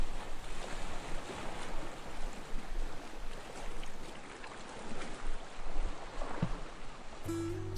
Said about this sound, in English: I think we need some background ambient sea sounds like this